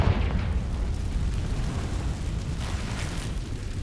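A Confringo spell explosion in Hogwarts Legacy, a heavy booming blast with a low rumble that rolls on and fades, loud and close, no voices.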